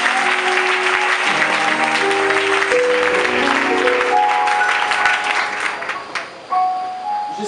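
A church convention congregation in Abidjan applauding and cheering, dense sustained clapping from a large crowd with organ-like sustained keyboard tones underneath, fading slightly near the end.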